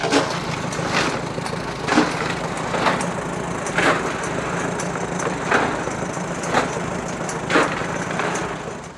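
A gas tank from a 1929 John Deere GP tractor tumbling, giving a steady gritty rattling roar with a heavier knock landing roughly once a second in an even rhythm.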